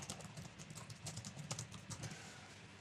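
Quiet, close typing on a computer keyboard, a rapid irregular patter of keystrokes with no talk.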